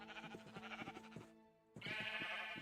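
Sheep in the Minecraft video game bleat in quick, repeated, nasal calls, several overlapping bleats in a row, then a brief pause and another burst, fairly quiet and with no speech.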